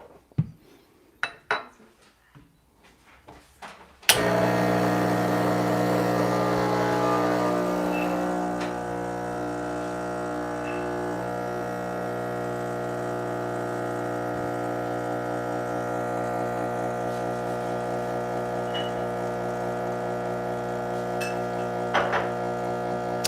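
Mazzer Mini coffee grinder grinding coffee: a few soft clicks and taps, then a sudden steady motor whine with hum that runs unbroken and fairly loud for nearly twenty seconds.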